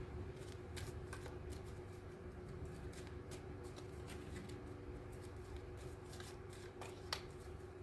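Continuous rapid riffling of tarot cards being shuffled, steady and close, with a few sharper snaps near the end; no voices.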